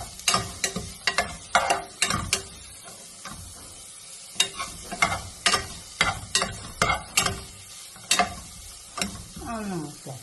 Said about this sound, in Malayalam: പച്ചമുളക് മൂത്ത് വന്നിട്ട് ഇഞ്ചിയും വെളുത്തുള്ളിയും തട്ടി വെച്ചത് ഇതിലിട്ട് കൊടുത്തിട്ടുണ്ട്